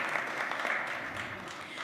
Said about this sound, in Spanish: Un voto de aplausos para nuestros hermanos